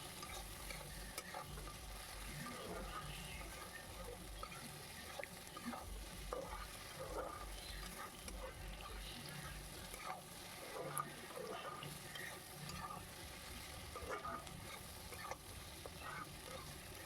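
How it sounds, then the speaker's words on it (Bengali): Chopped tomatoes fry with onions in a pan for a goat mutton curry, a soft continuous sizzle under repeated scraping strokes of a spoon stirring, quiet and close, with no talking. "টমেটোটাও আমি ভালো করে ভেজে নেব।"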